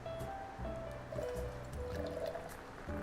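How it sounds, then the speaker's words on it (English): Fresh grapefruit juice pours into a bourbon cocktail being mixed, a short steady liquid fill lasting a few seconds, close and moderately quiet, with light clinks and no talk. "Next up, we're going to use 30 mils of fresh grapefruit juice."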